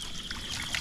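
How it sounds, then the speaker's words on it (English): Untreated stream water trickles steadily into a bottle, a soft continuous close-up dribble with faint splashing and no voices. "I think I will fill up my bottle, yes."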